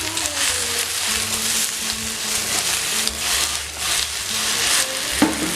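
Continuous sizzling of eggplant pieces frying in a pan, with soft stirring and scraping sounds and a brief clack near the end.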